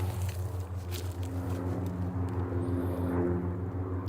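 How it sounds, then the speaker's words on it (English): Large, heavy airplanes passing overhead, a steady broad engine roar with low droning hum that holds throughout, heard outdoors in Spokane County amid wildfire smoke. "We got some bigger planes now."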